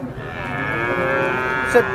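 A cow moos in one long, steady, loud call at a heifer and cattle market in Sangola, with a sharper rise in pitch near the end.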